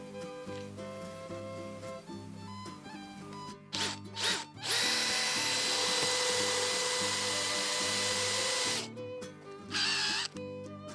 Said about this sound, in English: hand drill it is